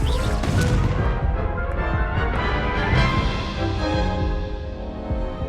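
Confringo, an explosive spell cast in Hogwarts Legacy, sets off a loud, close run of booming blasts and crashes lasting several seconds, with no talk over it.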